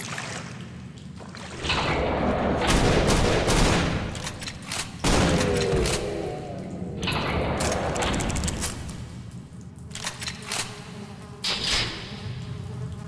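Gunfire rattles in the CountryCide video game, loud bursts of shots arriving in clusters with short quieter gaps between volleys, alone without talk.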